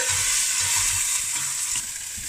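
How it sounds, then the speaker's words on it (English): Beef pieces browning in batches in a hot pan for a spicy beef casserole, a steady loud sizzle and crackle of frying with faint stirring bumps underneath, no talk. "we're going to remove the beef here and it's been browned off"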